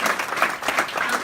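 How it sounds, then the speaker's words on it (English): Audience applause at a community breakfast at a golf country club, a short burst of dense clapping from a room full of people. "Big round of applause for you guys."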